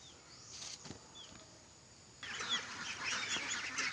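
Ducks quack and honk in a farm pen at feeding time with organic feed, the flock growing louder and busier partway through, with no talk.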